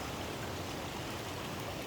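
Water flows out from under a mountain at its foot in a continuous, loud rushing stream, a steady broadband roar with no voices.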